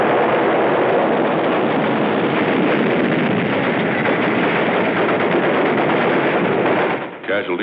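Sustained, dense gunfire and battle noise on the beach during the Battle of Tarawa, a loud continuous roar of shots and blasts with no clear gaps, easing off near the end.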